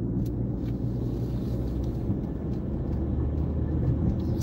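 A car driving slowly through a roundabout, its low engine rumble and road noise steady and moderately quiet from inside the vehicle, with no talk.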